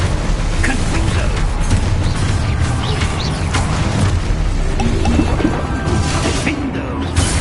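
Crashing, smashing blasts from the Confringo fire spell in Hogwarts Legacy, a dense run of loud impacts and thuds over several seconds with game sound and music underneath.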